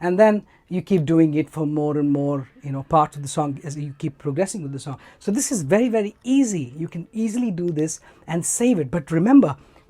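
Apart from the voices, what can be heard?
No everyday noise stands out behind the speech.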